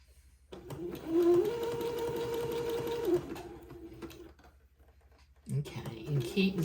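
A sewing machine zigzag-stitches lace onto a baby bonnet in a close, steady whir lasting a few seconds, stops, then starts again briefly.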